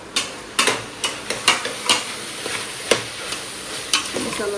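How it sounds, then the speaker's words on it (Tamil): Masala of coriander powder, turmeric and Kashmiri chili being stirred in a frying pan, with a string of sharp scraping and tapping strokes of a spoon over a light sizzle. "சேர்த்து நல்லா ஒரு கிண்டி கிண்டிட்டு"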